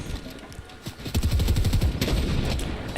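Rapid bursts of gunfire from a Fortnite match at a global championship final, with sharp repeated shots firing in quick rhythm, growing louder and denser after the first second and holding steady to the end.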